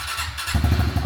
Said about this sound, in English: put a battery in it and here she runs